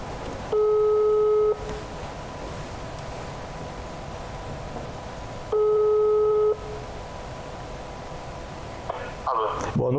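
Telephone ringing tone heard over a speakerphone during a studio talk show call, two long electronic rings a few seconds apart, steady and clear over a low room hiss, with a brief rustle near the end.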